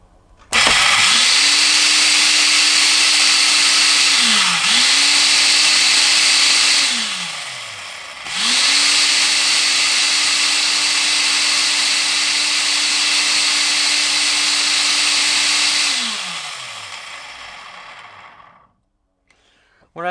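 Ryobi wet and dry vacuum running after its motor was sprayed with WD-40, a loud steady motor whine that spins up, dips briefly, stops, then restarts and runs before winding down to silence.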